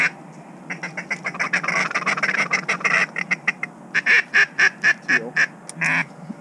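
Ducks quacking during an opening-day mallard hunt in Pennsylvania, a run of loud, close quacks in quick bursts that grow stronger and more regular toward the end.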